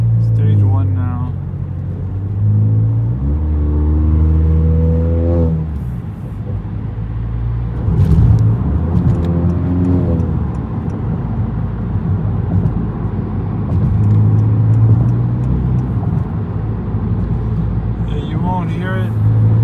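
Interior of a 2019–2020 Honda Accord Sport 1.5T with a tuned exhaust in its stage 1 mode, a steady low engine and exhaust drone while driving, with a person talking over it for much of the time.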